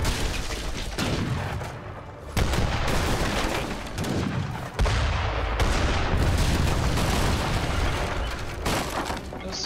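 Cannon and gunfire from a battle in the Age of Empires 3 Definitive Edition video game, with heavy booming shots and crackling volleys that come in loud bursts, broken by sudden cuts.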